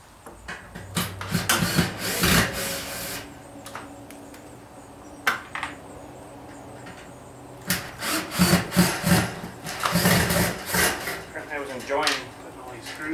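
Screws being driven while LED strip lights are installed in a workshop, with bursts of grinding and rubbing in irregular clusters, close and fairly loud, with short pauses between.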